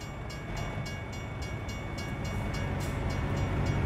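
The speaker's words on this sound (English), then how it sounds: "There's a train coming too." In American Truck Simulator, a train passes on a desert highway route with a steady, loud rumble. Regular rhythmic clacks of the wheels run over it throughout.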